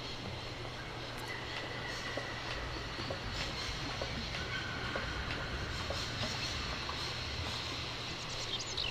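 A train runs in the video game Syberia, a steady low rumble with faint rhythmic clicks and occasional light metallic ticks throughout, mid-level and without any talk.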